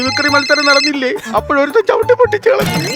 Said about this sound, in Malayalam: ഫോൺ അടിക്കുന്നു സാറിന്റെ ഫോൺ എന്റെ ഫോൺ ബെല്ല്